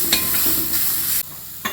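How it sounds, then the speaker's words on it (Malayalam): Mustard seeds fry in hot oil with red chillies and curry leaves, a loud, steady sizzle broken by stirring scrapes, with no talking. "മറ്റേ ചുമന്ന മുളകും കരിവേപ്പിലയും കൂടെ ചേർത്ത് കടുക് വറുത്തിട്ട്"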